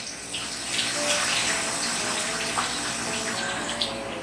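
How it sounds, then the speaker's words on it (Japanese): Lettuce stirred by hand in a bowl of cold water, a steady wash of sloshing and swirling water with brief splashes, close and fairly loud, no talking. "冷水入れてからちょっと中をこうかき混ぜてください"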